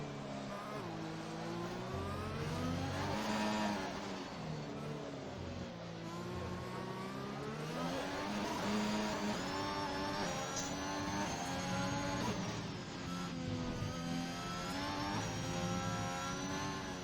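Onboard Formula 1 car engine from the F1 racing game at the Mexico circuit, a continuous high-pitched whine that rises and falls through gear changes and throttle lifts, loud and close throughout the lap.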